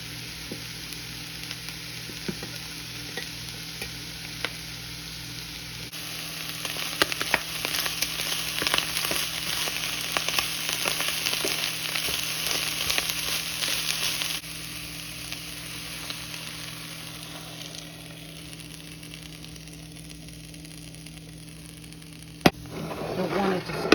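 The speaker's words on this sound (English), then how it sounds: "So the meat, potatoes, and mushrooms are just starting to sizzle now." Meat, potatoes and mushrooms sizzle and crackle in a hot pan, a steady frying hiss up close with occasional stirring and a faint hum underneath.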